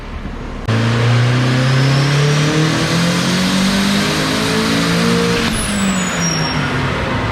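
A turbocharged car running on E85 revs hard, its engine note climbing steadily and loudly before a sharp turbo blow-off whoosh near the end, close and without voices.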